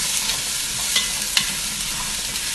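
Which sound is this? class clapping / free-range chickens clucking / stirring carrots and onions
stirring carrots and onions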